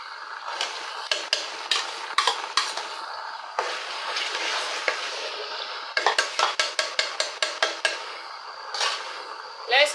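Tomato frying in a pot for Nigerian chicken stew, a steady sizzle broken by repeated scraping and clinking of a spoon against the pot in quick runs of strokes, close and fairly loud with no talk.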